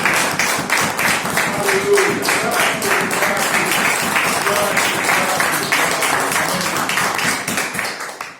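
A church congregation applauds in a dense, sustained round of clapping that continues at steady strength for several seconds before tapering off at the end.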